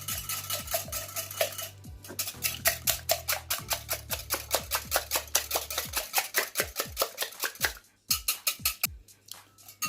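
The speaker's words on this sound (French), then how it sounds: "Et à l'aide d'un fouet, bien mélanger tout." A whisk beats a marinade of ground spices and stock cube in a bowl, making quick, regular metallic clicks and taps that keep a steady rhythm with only a couple of short pauses.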